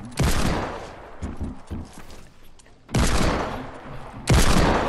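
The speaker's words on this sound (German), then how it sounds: "Ludwig, schieß sie runter." Fortnite gunfire bursts loudly in repeated volleys, with dense rapid shots in three heavy clusters separated by quieter stretches of scattered shooting.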